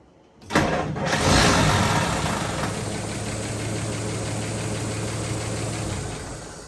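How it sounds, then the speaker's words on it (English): A 1931 Chevy coupe engine on a 6-volt system cranks and catches with a sudden roar, then settles into a steady, rumbling idle close by. "That is the first time that this car has started with the 6-volt system on its own."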